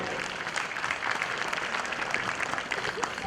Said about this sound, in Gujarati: તાળીઓથી આપણે એક વખત ખેલાડીનું અભિવાદન થતું હોય ત્યારે તાળીઓનો નાદ હોવો જોઈએ